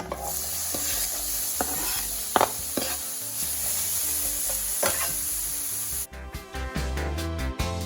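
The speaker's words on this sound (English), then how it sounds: "Warm up that oil a bit and add your onions." Onions sizzle and hiss steadily in warm oil in a pan, with scraping stir strokes through the fry, the sizzle loud and close throughout.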